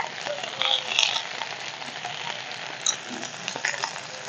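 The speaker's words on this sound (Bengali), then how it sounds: "দিয়ে ভালো করে ভেন্ডি আর আলুটাকে ভেজে নেবো আমি" Okra and potato pieces fry in a pan with salt and turmeric, giving a soft, steady sizzle close by, broken by a few light stirring clicks.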